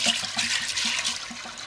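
Water pours steadily into a pot of soaked pink beans, a continuous broad splashing rush with a low gurgling pulse underneath, close and fairly loud, with no talking.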